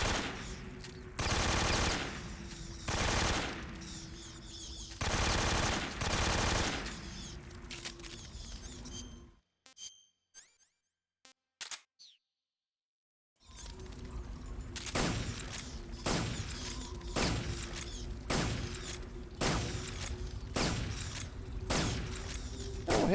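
Gunfire from a Mark 22 pistol and an AK-47 rifle in the video game Metal Gear Solid 3, heard as loud, close bursts of rapid shots. A short silent gap falls in the middle, then dense firing resumes.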